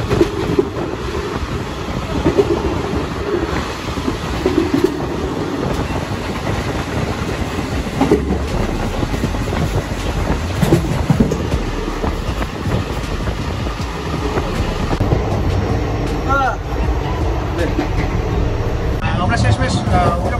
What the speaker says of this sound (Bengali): আমরা শেষমেশ উঠে পড়লাম ট্রেনে